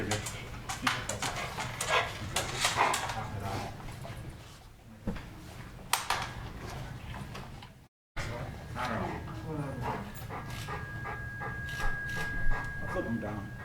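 Dog whimpering and barking in a council meeting room, with repeated sharp yips and whines over murmuring voices and general room noise.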